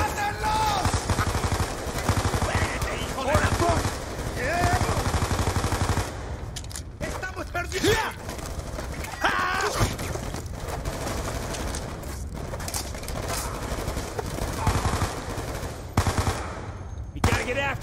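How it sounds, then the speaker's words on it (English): Gunfire in a Call of Duty Black Ops 2 cutscene: rapid bursts of machine-gun and rifle shots crackle continuously at close range, with dense volleys and intermittent voices mixed in. "Gunshots came from inside."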